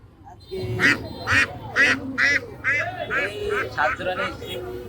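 Ducks brought to sell at a rural village haat in Noakhali quack loudly and close by, about nine rapid calls in a row, with market bustle underneath.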